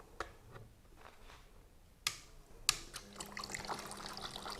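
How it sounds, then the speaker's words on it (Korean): Water drops fall onto a waxed car panel during a water-beading test, leaving a few sharp isolated taps followed by a faint trickling patter, quiet and close, with no talk. "자, CPM 보시면 이렇게 물이 떨어지는데"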